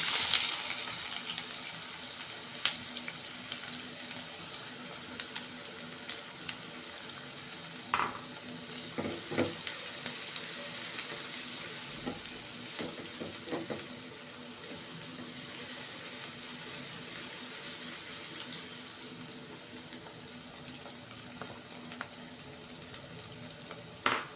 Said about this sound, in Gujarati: ડુંગળીને આપણે ગોલ્ડન બ્રાઉન કરવાની છે